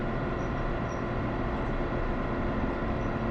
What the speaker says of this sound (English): to keep the train cruising at a low speed